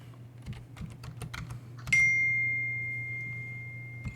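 Keys on a computer keyboard clack in a quick, close run of taps, followed by a bright sustained ding from the computer that slowly fades, with one more tap at the end.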